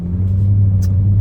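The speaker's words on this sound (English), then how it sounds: "especially with the pops and bangs that you get out of this amazing exhaust" Deep, steady exhaust rumble from a Jaguar F-Type SVR with an automatic gearbox, a loud low drone holding evenly throughout, with no voices.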